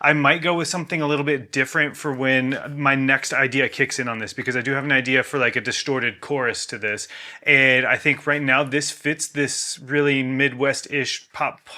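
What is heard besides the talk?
No everyday noise stands out behind the speech.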